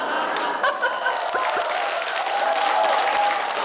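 A studio audience at a televised Korean stage show claps steadily and densely, mixed with scattered chuckles and light laughter, under a faint sustained musical tone.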